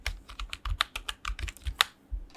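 Quick, close keystrokes clatter on a computer keyboard as a phone number is entered, a steady run of light taps with no talking.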